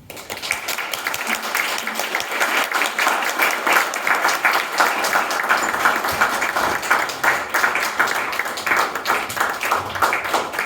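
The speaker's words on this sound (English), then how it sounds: "let's give another round of applause for our speakers" Audience applause after speakers at a UX storytelling talk event, a dense, even roar of many hands clapping that holds steady for about ten seconds at moderate level.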